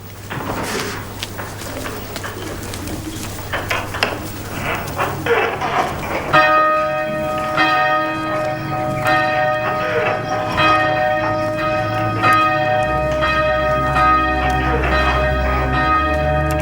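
Church bells rung by a team of bell ringers in a tower peal in overlapping, ringing strikes with long sustained tones, loud and continuous throughout, with brief talk and faint background sounds early on.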